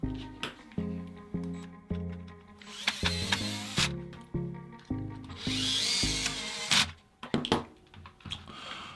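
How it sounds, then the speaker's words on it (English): Screws driven back into the plastic housing of a Fisher-Price Jam and Count Panda toy, with repeated short buzzing bursts from a small power driver and clicks between them, close and steady, alone without talk. "we can go ahead and replace the screws that were holding them down"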